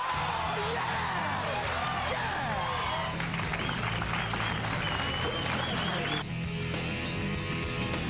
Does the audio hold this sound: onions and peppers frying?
no